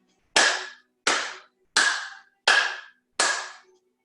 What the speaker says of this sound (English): Now put palms together. We're going to clap 5 times.